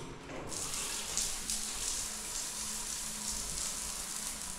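Cold water running steadily from a home tap, a continuous hissing splash with a brief quieter start, heard alone without talk.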